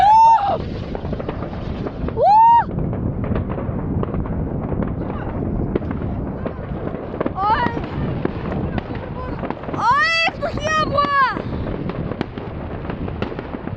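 New Year's fireworks crackle and pop in a dense, continuous barrage, some bursts nearby and others farther off from neighbours, while people talk and exclaim over them.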